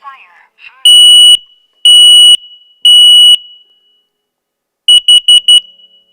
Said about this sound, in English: You know that this smoke alarm is working properly.